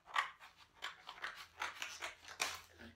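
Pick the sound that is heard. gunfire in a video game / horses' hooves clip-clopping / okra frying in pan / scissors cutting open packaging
scissors cutting open packaging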